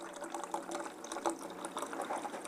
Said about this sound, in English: I'm going to fill up this pot here.